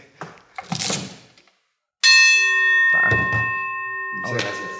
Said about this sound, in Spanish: Déjame sonar la campana